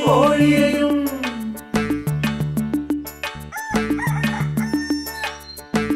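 A rooster crows loudly at the start of a Malayalam children's rhyme song, then rhythmic music with plucked and struck notes carries on steadily.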